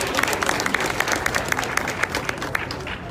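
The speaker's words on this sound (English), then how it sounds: "Let's give him a round of applause." A large crowd at a live speaking event in Boston applauds for Bobi Wine, a loud, dense and continuous roar of clapping with crowd noise mixed in that holds steady throughout.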